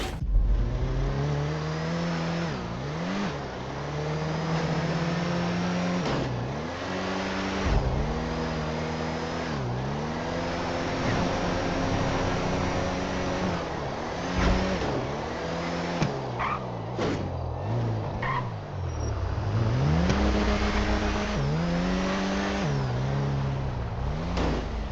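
Car engine in a video game revving and surging repeatedly, pitch rising and falling in steady waves, loud and continuous throughout with no talk.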